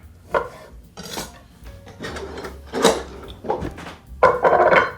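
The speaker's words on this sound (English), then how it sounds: "I'm going to cut a lime" Knife slicing through a lime on a board, a series of close, sharp chopping knocks and scrapes with uneven spacing, ending in a busier cluster of cuts.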